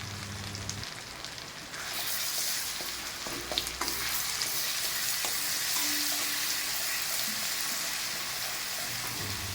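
Ground mustard paste goes into a pan of frying spices, chilli powder and turmeric, with a loud sizzle that swells after the addition, plus occasional stirring clinks, close and without speech.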